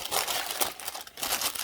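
A sheet of parchment paper crinkles and crunches as it is pressed into a basic metal loaf pan, a short, close, continuous rustle with no talking.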